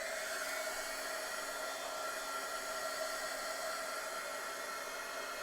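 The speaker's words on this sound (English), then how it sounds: "I'm going to hit this with the heat tool again." A heat tool blows steadily on junk journal paper, giving an even, airy whir with no breaks from start to finish, fairly quiet and alone.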